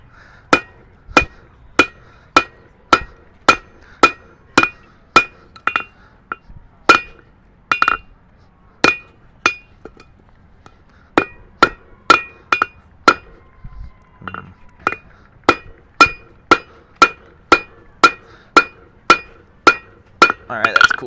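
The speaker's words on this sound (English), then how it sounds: "I'm using the near edge of the anvil to isolate a little more metal" A blacksmith hammers hot metal on the near edge of an anvil, striking sharp ringing blows in fast regular runs with brief pauses between bursts. The hits are close and loud, and a voice talks quietly in the gaps.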